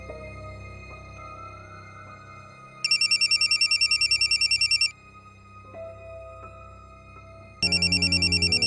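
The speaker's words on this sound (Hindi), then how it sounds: "मैं अभी राहुल को फोन करता हूँ।" A telephone rings in two bursts of rapid trilling bell tones separated by a pause, with faint music playing underneath.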